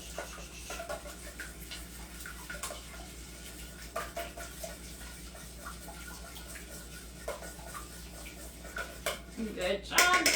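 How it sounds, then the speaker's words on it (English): Wet ingredients for raspberry oatmeal cookies are whisked in a bowl, giving a quiet, irregular run of clinks and scrapes that grows busier and louder toward the end, with a steady low hum underneath. "next thing you can do is you're going to whisk that up as well, making sure that it's well mixed"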